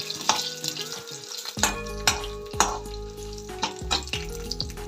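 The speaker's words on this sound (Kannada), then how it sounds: "ಟೊಮೊಟೊ ಬಾತಿಗೆ ಸೋಂಪು ಹಾಕಿದ್ರೆ ಒಳ್ಳೆ ಘಮ ಕೊಡುತ್ತಂತೆ, ಅದಕ್ಕೋಸ್ಕರ ಸೋಂಪು ಕೂಡ ಫ್ರೈ ಮಾಡ್ತಾ ಇದ್ದೀನಿ" Fennel seeds frying in a pan for tomato bath, a steady close sizzle punctuated by several sharp metallic stirring clanks of a spoon against the pan, roughly one every half second.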